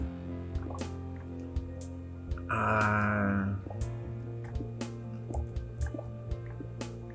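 Underwater swimming in the Minecraft video game, with soft dripping, bubbling water sounds over a low ambient drone, plus a brief louder gurgling burst near the middle and scattered small splashes.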